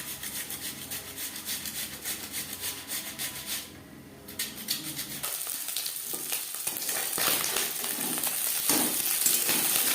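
Small puti fish frying in a pan of hot oil, a steady broadband sizzle with scraping and stirring noises, a brief dip midway, then a louder, brighter spatter to the end.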